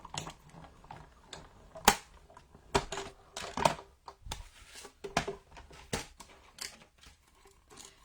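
A die cutting machine works through paper rainbows with sharp, irregular clicks and snaps, several louder cracks standing out over quiet rustling, close and with no talking.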